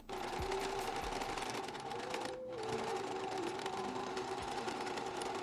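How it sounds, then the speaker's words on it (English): A sewing machine stitching an upcycled thrift-store garment: a steady, close mechanical whir with a fast needle rhythm running almost without a break, with one brief pause midway, and no talk. "I'm just gonna turn it on and start sewing."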